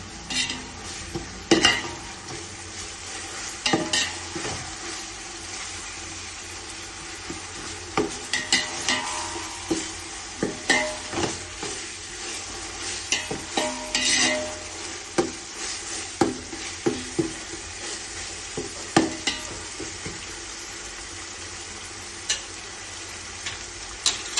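Onions sautéing in a pan for chicken biryani, a continuous sizzle broken by frequent scraping and clinking of a spoon against the metal as they are stirred.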